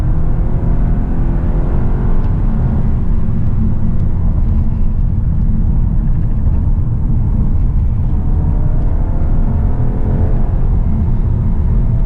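Steady low, throaty drone of a 2019 VW Arteon R-Line's turbocharged 2.0-liter four-cylinder pulling hard out of a corner, loud and continuous with heavy rumble and no talking.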